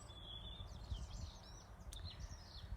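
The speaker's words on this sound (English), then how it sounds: "The birds are so beautiful." Birds chirp and trill in soft, scattered calls outdoors, faint and distant over a low rumbling background, with no voices present.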